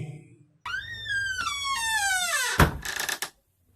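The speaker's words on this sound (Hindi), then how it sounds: "दरवाजा बंद होने की आवाज" A door closes as a sound effect in a narrated story: a long rising-and-falling hinge creak slides downward, then a heavy thud of the door shutting, followed by a short rattling settle.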